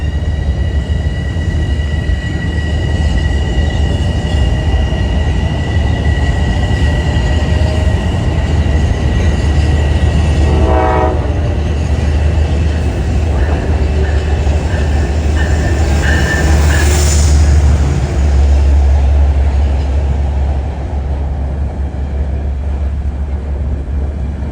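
Metro-North train approaching the platform at Harlem 125 on a freezing night, a loud continuous rumble of rolling cars with wheel squeal and a short horn-like tone partway through, no talking.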